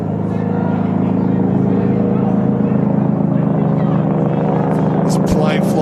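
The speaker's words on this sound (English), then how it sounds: "This plane flies" Plane passing overhead at a Tasmanian football match between Clarence and Kingborough, a broad low droning roar reverberating through the grandstand, steady throughout, with crowd and commentary-like voices mixed in and a brief high squeal near the end.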